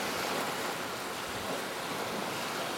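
Sea waves wash along the shore while someone cycles right at the water's edge, a steady, close broadband rush mixed with wind noise on the microphone and no talk.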